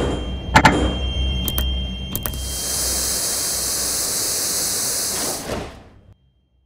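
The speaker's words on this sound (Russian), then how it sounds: "Осторожно, двери закрываются." Metro train doors on a Moscow line at Tyoply Stan station close with a few sharp clunks followed by a long, steady pneumatic hiss that cuts off, then the carriage falls quiet.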